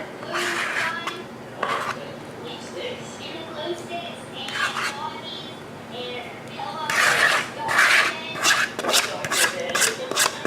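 A spoon scraping banana bread batter with chocolate chips and cherries from a bowl into a loaf pan; soft irregular rasping and scrapes, busier toward the end, with a person talking over parts.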